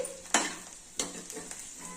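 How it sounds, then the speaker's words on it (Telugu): Chilli powder fries in hot oil and is stirred, with two sharp scraping stirs standing out over a steady soft sizzle, close and moderately loud. "ఆ నూనెలోనే ఇప్పుడు మనం వేసుకున్న కారము అంతా వేసి వేయించాలండి. పొడి పొడి అయ్యే వరకు వేయించుకోవాలి."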